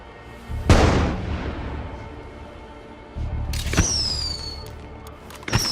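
An explosion in the State of Decay 2 video game, with a sharp loud blast and rumbling decay, followed by another boom and ringing, whistling tones.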